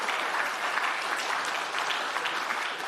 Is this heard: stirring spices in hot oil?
no